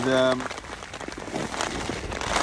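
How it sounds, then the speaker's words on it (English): Heavy, fat raindrops and gusting wind batter a tent pitched just off a mountain summit at night in winter, a loud, dense hiss of rain drumming on fabric with no voices. "that rain is getting really fat and it's battering the tent. Winds are getting up now as well"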